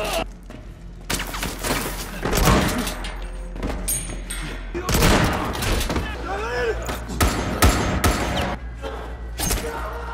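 A fusillade of gunfire, including shotgun blasts, comes from an action film as gangsters are shot up a building. Loud, dense bursts of shots and thuds sound close by, mixed with other impacts and crashes.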